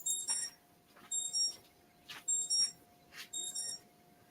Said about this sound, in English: I hear an alarm of some sort.